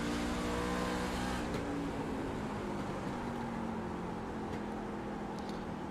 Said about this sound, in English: it sounds to me like he's really easy and gentle on that throttle